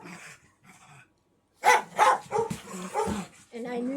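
A psychiatric service dog lets out a quick run of barks and rough growls, close and fairly loud, after a quieter stretch with faint voice-like sounds.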